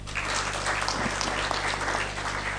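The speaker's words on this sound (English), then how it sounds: "a round of applause" An audience at an East African internet conference applauds, a continuous dense clapping that stays even and fairly loud throughout, with a low steady hum underneath.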